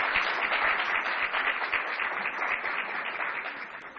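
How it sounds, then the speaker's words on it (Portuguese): An audience applauds a speaker at a lecture event, a steady, fairly close wash of many hands clapping that holds at an even level throughout. "Ana Luísa Lima, a quem eu peço uma salva de palmas."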